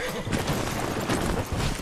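A video game horse whinnies and its hooves clop in a short burst, heard amid noisy game sound and overlapping voices.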